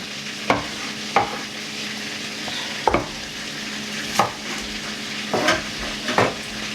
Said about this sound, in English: We got our butter brewing here.